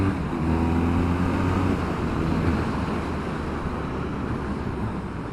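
BMW R nineT motorcycle riding at speed, a steady engine drone with low tonal hum under heavy wind rush, engine note holding fairly even with a slight dip partway through.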